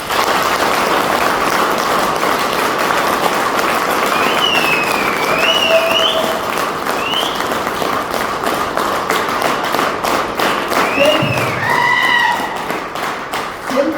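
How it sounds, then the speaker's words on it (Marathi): A crowd applauding for a birthday, a dense steady clapping that carries on for the whole stretch, with a few whistles rising over it. "त्यांच्या बर्थडे दिवशी एकदम मनापासून टाळ्या वाजवा"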